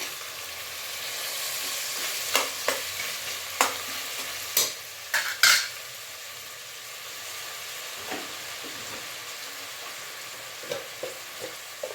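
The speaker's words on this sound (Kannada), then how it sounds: "ಈಗ ನಾವು ಕಟ್ ಮಾಡಿ ಎತ್ತಿಟ್ಕೊಂಡಿರುವಂಥ ಟೊಮೆಟೊನು ಹಾಕ್ಕೊತಿದ್ದೀನಿ." Four chopped tomatoes fry with browning onions in a pan, giving a steady, close sizzle. Sharp scrapes and knocks of stirring come at intervals, and there is no talk.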